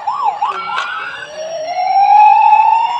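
A silver toy police car plays an electronic siren, a close, loud wailing tone that sweeps up and down in pitch before settling into a rising, sustained note.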